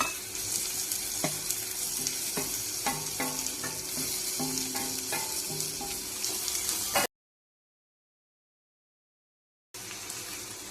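Tomatoes, chilies, garlic and ginger fry in a pan for a potato curry, a continuous close sizzle with clinks and scrapes from stirring, cutting out to silence for a few seconds before the frying resumes.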